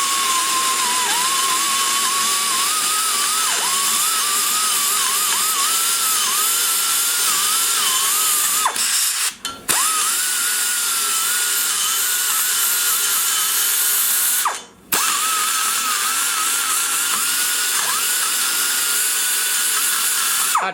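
A die grinder carves the port hump inside a small-block Chevy cylinder head, a loud, continuous high-pitched whine that wavers with the cutting load and dips briefly twice as the tool lifts off the metal.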